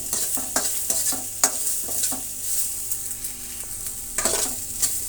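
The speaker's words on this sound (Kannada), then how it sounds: "ಒಂದು ಅರ್ಧ ನಿಮಿಷ ಫ್ರೈ ಮಾಡ್ಕೊಳ್ಳಿ ಸಾಕು." Sambar masala ingredients, including dried red chillies, being fried and stirred in a pan on a stove: steady close sizzling with repeated scraping strokes of a spatula, several louder clacks near the start and again toward the end.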